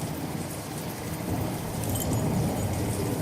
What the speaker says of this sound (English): Look at this, it's raining.